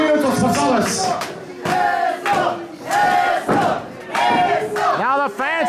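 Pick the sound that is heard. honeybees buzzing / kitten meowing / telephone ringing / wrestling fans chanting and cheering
wrestling fans chanting and cheering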